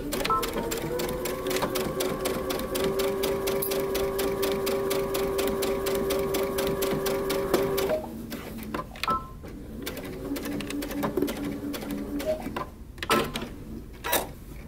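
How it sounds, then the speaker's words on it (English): A sewing machine runs steadily, stitching a seam on wide-leg trousers with back stitching, its rapid needle chatter continuous for about eight seconds before stopping, followed by quieter handling clicks and rustles. "We're going to stitch this down using 5/8 of an inch seam allowance."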